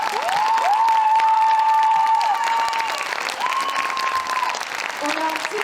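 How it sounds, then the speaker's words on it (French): Loud audience applause and cheering at a live opera-rock show for a performer named Guillaume, with a sustained held tone and long sung or voiced notes over the dense clapping. "On peut applaudir Guillaume"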